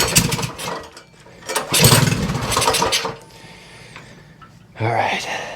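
A Predator 224 engine swapped into a Motovox mini bike sputters in short, uneven bursts as someone tries to get it running, with a brief lull and a final cough, while a person speaks between attempts.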